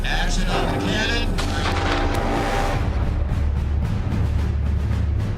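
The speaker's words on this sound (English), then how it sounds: "Action on the cannon." Cannon fired on the set of a war film, a heavy boom with a burst of broad noise early on, followed by a rumbling low tail and crackling debris, loud and dense with some background voices.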